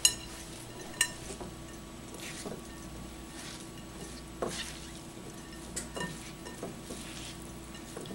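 Broccoli and onions are tossed together by hand in a bowl, giving soft, close squishing and rustling with a few light knocks against the bowl, with no talk.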